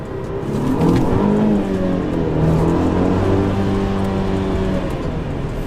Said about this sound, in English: For a sedan, she pulls pretty hard.